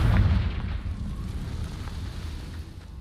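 A Confringo fire spell in Hogwarts Legacy bursts into a loud, rumbling explosion whose boom fades over about three seconds.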